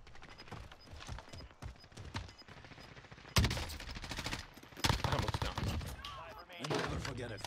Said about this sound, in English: I'm just taking shots, bro.